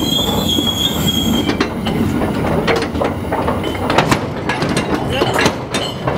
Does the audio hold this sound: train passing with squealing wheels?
yes